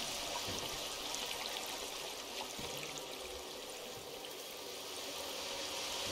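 Steady water flowing and pouring in the cyberpunk-world cat game Stray, a continuous rushing trickle that fills the whole stretch at moderate level with no voices.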